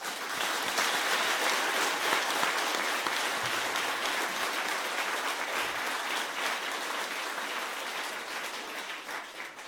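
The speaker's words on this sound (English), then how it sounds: "They deserve another round of applause." Steady applause fills a children's rights prize ceremony honoring the jury, a dense even clatter of many hands that holds at a constant level before easing slightly toward the end.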